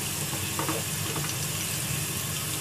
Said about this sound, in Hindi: इसमें प्याज डालेंगे हम, ब्राउन करेंगे प्याज। हमारी ब्राउन होने लगी है, अब हम इसमें डालेंगे तेज पत्ता